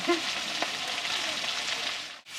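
Pangas fish frying in hot oil, a steady close sizzle with crackling spatter throughout that breaks off into near-silence just before the end.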